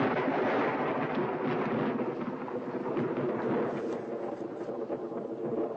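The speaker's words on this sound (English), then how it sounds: "it seems like we're going to have a storm" Thunder from an approaching storm rumbles continuously as a deep, steady roar at moderate volume, with no voices heard over it.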